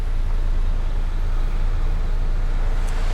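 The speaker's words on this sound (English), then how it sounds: "We're on the bus." Steady low engine rumble and road noise fill the cabin of a city bus travelling near Minsk, Belarus, a continuous close drone with no voices.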